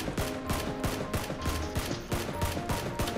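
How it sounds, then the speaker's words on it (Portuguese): Rapid, sustained bursts of automatic gunfire in the video game PUBG crack in a fast steady rhythm, loud and close, with overlapping shots over a dense backdrop. "Tá tomando muito tiro."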